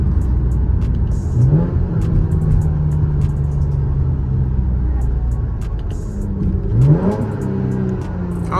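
Loud 5th-generation Camaro engine droning at steady revs, with two sharp rev blips and rising pitch sweeps around downshifts, heard from inside the car during a drive.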